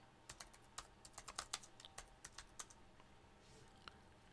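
Fingers type on a computer keyboard in a quiet room, a quick irregular run of crisp key clicks for about three seconds, then a couple of isolated taps.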